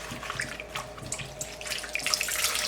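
Water splashes and trickles as a folded paper towel is dipped into a container of water during carrot storage prep in a kitchen, a steady close wet sloshing with small drips throughout.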